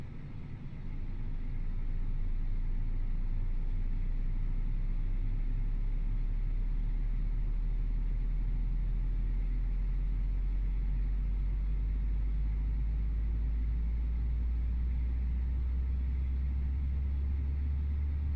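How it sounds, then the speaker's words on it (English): Simulated CFM LEAP turbofan on an Airbus A320neo spooling up through engine start in a flight simulator game, a steady deep rumble rising over the first two seconds and then holding a loud, even roar with no talking. "That fuel light off sound. I gotta hand it to the CFM. That leap."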